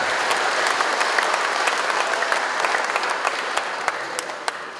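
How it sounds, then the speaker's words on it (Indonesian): Steady applause from an audience at a district community organisation inauguration ceremony in Poncokusumo, Malang, with dense clapping that carries evenly from start to finish and sharper individual claps standing out now and then. "Untuk itu kita beri aplaus untuk teman-teman yang dari Poncokusumo"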